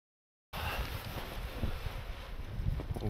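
Strong wind gusts batter a microphone at a wild camp in the Peak District, starting abruptly and continuing as a loud, buffeting, continuous roar with uneven surges.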